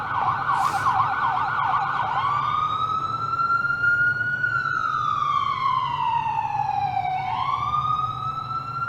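An emergency vehicle siren wailing loudly and up close, its tone sweeping slowly up and down over a low rumbling background.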